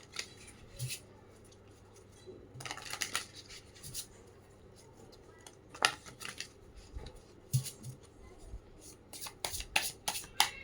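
Tarot cards are shuffled by hand in short bursts of riffling and sliding, close and fairly quiet, with gaps of near silence between the flurries and no clear speech.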